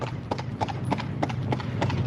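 Horse hooves clip-clop in a steady, even rhythm, close and clear, with a few faint voices in the background.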